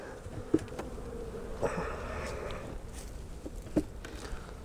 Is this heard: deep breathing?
no